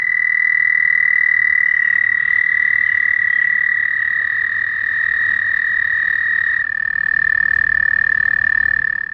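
American toads call together in long, loud, unbroken musical trills that overlap. One high trill holds throughout and a second joins, close by, with no other sound.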